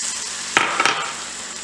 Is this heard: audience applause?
no